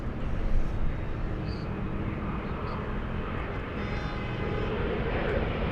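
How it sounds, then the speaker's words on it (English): A plane taking off at LAX gives a steady, loud, broad roar with a rumbling, train-like low end that holds evenly throughout. "Plane that sounds like a train."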